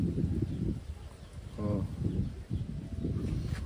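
Taiwan pigeons cooing close by, low throaty coos in short bursts while someone talks over them.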